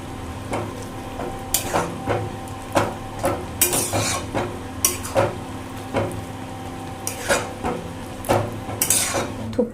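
Pahari-style thukpa being stirred and mixed in a metal pot, with rhythmic scraping and clanking of a ladle against the sides, repeated knocks every second or so over a faint bubbling simmer.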